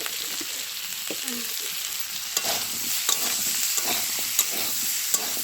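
Potatoes fry steadily in a hot pan for aloo dum, a continuous crackling hiss with occasional sharp pops and utensil clicks, close and without speech.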